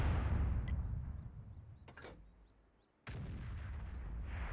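A World of Tanks M40/43 self-propelled gun cannon booms at the start and its blast rolls away into a fading rumble, then a second heavy blast hits near the end.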